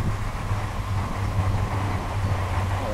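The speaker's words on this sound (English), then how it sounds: "It's a train passing by." A low rumbling drone with a pulsing hum rolls on steadily, like a train passing some distance away.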